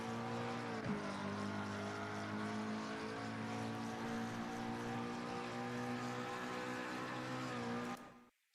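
McLaren race car engine in Assetto Corsa Competizione at Misano, droning steadily at constant revs, falters briefly as its fuel runs out and then cuts off abruptly at the end.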